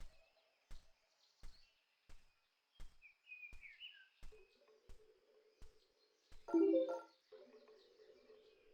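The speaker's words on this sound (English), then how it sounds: "it's nothing but birds chirping and, like, walking sounds." Birds chirp briefly in the middle distance in the video game Mysteries Under Lake Ophelia, over a steady rhythm of close walking footsteps and a louder scuffing thump near the end.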